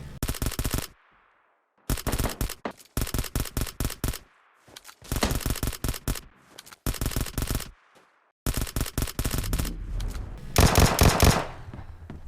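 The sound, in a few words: burst-fire Vector gunshots in the video game PUBG Mobile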